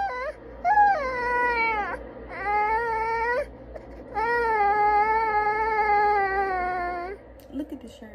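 A 4-month-old baby cries in long, wailing bursts with brief pauses, loud and close, during sleep training.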